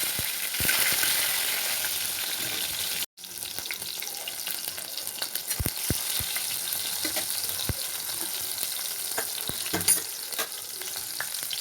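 Tomatoes hit hot oil with dried chillies and five-spice seeds, setting off a loud, steady sizzle with scattered pops and crackles and occasional stirring clatter; the frying drops out briefly near the start, then carries on.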